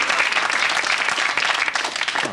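A television talent show audience applauds loudly and steadily for about two seconds, a dense close wash of clapping with no break.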